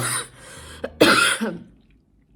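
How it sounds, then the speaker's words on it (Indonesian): A couple of short, harsh coughs up close, the second louder and raspier, followed by a quiet pause. "Sorry teman-teman, aku masih batuk."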